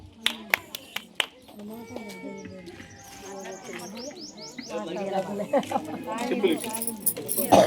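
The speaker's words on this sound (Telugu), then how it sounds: "క్లాప్స్ పెట్టండి క్లాప్స్" Applause from a village crowd at a women's association program during a Sankranti rangoli (muggulu) competition, with scattered sharp claps at first, then a denser, louder patter of clapping mixed with voices and chatter.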